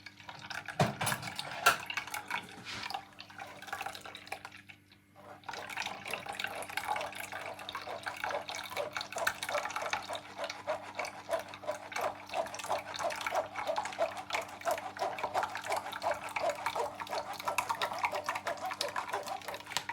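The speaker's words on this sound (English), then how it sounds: "Run it through your strainer like this." Homemade Jamaican juice poured through a strainer, a continuous close trickle and splash of liquid with occasional light clinks of kitchenware.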